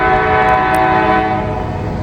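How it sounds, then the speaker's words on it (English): A train horn blows in one long, steady, loud blast that echoes around it, sustained across the whole stretch with no voices. "We got a train blowing"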